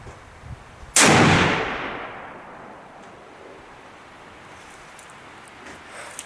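A single loud rifle shot from a 7mm PRC Outlier barrel fired outdoors at a distant target, one sharp close crack that rolls off into a long fading echo, followed by quiet.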